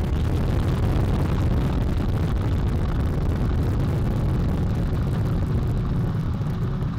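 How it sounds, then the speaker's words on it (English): The Artemis 1 rocket lifts off with four RS-25 core-stage engines and two solid rocket boosters, making a loud, steady, broadband roar that rumbles on without a break. "All 4 RS-25 engines on the core stage and 2 solid rocket boosters now propelling the vehicle at 128 miles per hour."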